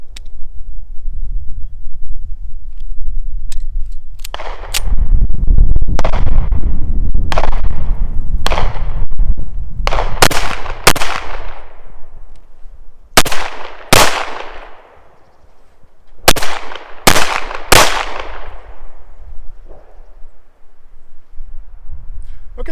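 A Llama Max 1 pistol chambered in .38 Super fires at an outdoor range, with about a dozen sharp, loud reports coming singly and in quick pairs. A low wind rumble and spoken remarks fill the gaps between shots.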